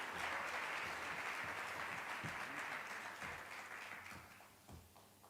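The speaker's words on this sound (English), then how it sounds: "Let's give him a round of applause." Audience applause for a young speaker about to recite an essay written in Xitsonga at a G20 youth roundtable, a steady wash of many hands clapping that gradually fades, with a few louder claps near the end.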